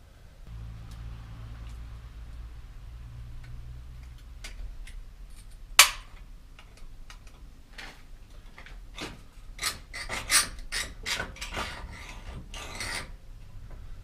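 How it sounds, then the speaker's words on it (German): Rasping hand-saw strokes on a metal bicycle bottom bracket bearing cup, a series of scraping pulses picking up in rhythm after a sharp click, close by with no talking. "Jetzt nehme ich eine Säge."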